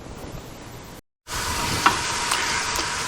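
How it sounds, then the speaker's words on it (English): Bell pepper and onion sauté in a hot pan for a sloppy joe filling, a steady broadband sizzle broken by a brief silent gap, then louder frying with occasional stirring clicks. "I've been sauteing this now for about 7 or 8 minutes, and as you can see, it's getting nice and brown and the vegetables are cooking."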